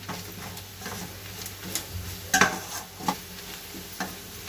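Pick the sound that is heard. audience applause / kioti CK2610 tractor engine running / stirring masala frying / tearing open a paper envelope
stirring masala frying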